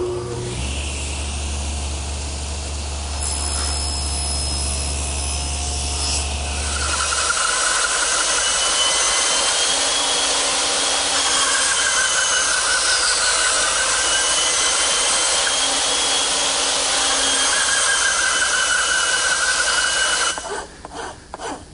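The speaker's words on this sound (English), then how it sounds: "remove the rest of the material with my bandsaw" A bandsaw hums and whines steadily while cutting away waste to form tenons on wooden rails in a workshop building a butcher block, with a low motor drone at first and recurring cutting tones over a continuous hiss; no talking.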